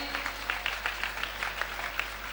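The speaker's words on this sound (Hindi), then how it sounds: "आप ताली बजाने में कंजूसी ना करें।" An audience applauds at a Jain ceremony in Jaipur, steady clapping with slightly rhythmic peaks over a low hum, fairly faint and with no talk over it.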